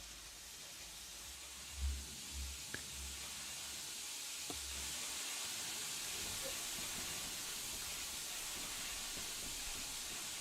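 Steady, loud steam hiss from the open cylinder cocks of a Terrier tank locomotive in Train Simulator Classic, a continuous broadband rush running through the clip after a few low thumps and clanks at the start.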